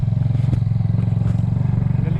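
A motorcycle ridden through narrow lanes with a gas cylinder aboard putters steadily at close range, its engine pulsing in a constant low rhythm with faint rattling and scraping over the top.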